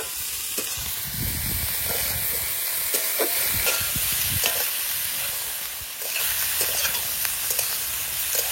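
Broccoli and fish cooking in a pan with turmeric powder being added, steady close sizzling and frying hiss with occasional stirring scrapes and clinks throughout.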